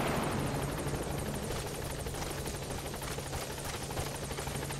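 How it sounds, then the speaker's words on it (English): Support helicopter in Metal Gear Solid V, a steady loud rotor thump with engine whine running continuously throughout, no voices over it. "Support helicopter has arrived."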